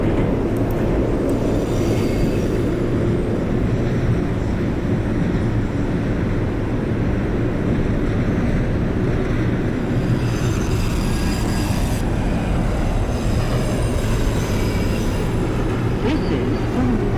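An R142 New York City subway train running in the OpenBVE train simulator, local service on the 2 line to Wakefield–241 St: a loud continuous rumble of wheels and motors with faint squeals, steady for the whole stretch.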